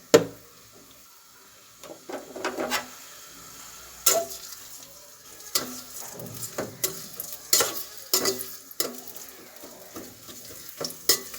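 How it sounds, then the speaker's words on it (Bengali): Onions frying in oil in a pan while cooking aloo ghati: a low constant sizzle broken by repeated clatters and scrapes of a spoon stirring against the metal, some sharp and loud, others softer. "তেলের মধ্যে পেঁয়াজ দিয়েছি"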